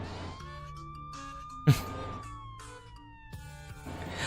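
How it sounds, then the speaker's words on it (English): A police siren from a phone's speaker in a video game wails in a long, steady tone that slowly falls, punctuated by a sharp thump and brief bursts of game sound. "Within a few seconds, a police siren is playing from its speakers."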